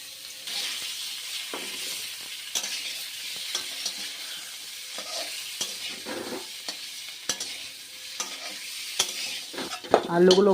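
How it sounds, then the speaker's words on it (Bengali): Potatoes frying in hot oil for an egg curry, stirred again and again, giving a steady close sizzle broken by scraping stir strokes and a louder clatter near the end. "আলুগুলো একটু ভেজে নেব।"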